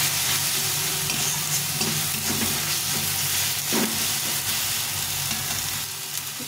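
Tomato with cumin and chili powder fries down in a pan for a tilapia fish curry. A steady, fairly loud sizzle carries stirring scrapes over it, and there is no speech.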